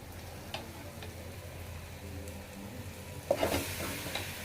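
Chicken pieces go into a pan for a Chennai-style chicken gravy. A soft, low sizzle runs throughout with faint ticks and stirring clicks, then rises to a louder burst of frying near the end.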